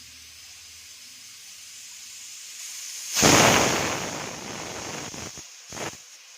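A pressure cooker vents with a sudden loud rushing steam hiss and a whistle tone, then tapers off, with a second shorter burst of hissing following shortly after.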